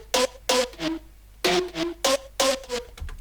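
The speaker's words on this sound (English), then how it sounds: "with pitch automation on, and the plucks in the second part sound like this." Buzzy synth plucks with pitch automation play a quick melodic pattern of short notes that step between pitches, grouped in bouncy clusters, loud and up front with no voices.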